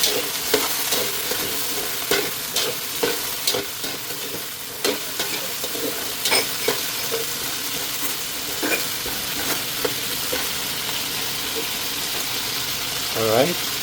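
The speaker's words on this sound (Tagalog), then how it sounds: "Pan-fry ko muna guys ang ating" Potato pieces pan-fry in hot oil with a steady sizzle, broken by repeated sharp scrapes and clanks of a utensil stirring them in the pan, close and fairly loud, with a brief voice near the end.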